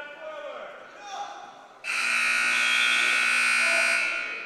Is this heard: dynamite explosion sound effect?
no